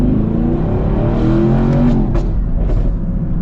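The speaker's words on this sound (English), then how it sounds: "you can still hear the exhaust really well" A new Chevrolet Camaro SS V8 rumbles steadily and loudly with a deep, continuous exhaust drone, rising slightly in a couple of revs, heard close up without talk.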